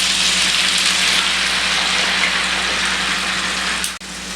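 Cider vinegar and honey hit a hot pan on the stove and give a loud, steady frying sizzle that runs unbroken throughout, with a brief dip at the very end.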